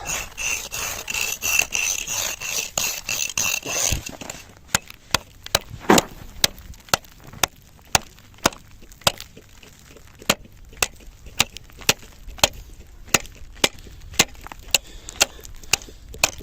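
A Ganzo tool chops into thin river ice, 4–6 cm thick, on the Southern Bug in winter: a steady series of sharp, loud, evenly spaced strikes follows a few seconds of rubbing and scraping.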